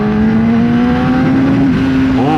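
A 2018 Kawasaki ZX-10R sportbike accelerates hard on a two-lane highway, its engine note climbing in a loud, steady rising whine close up under heavy wind roar, with a shift near the end.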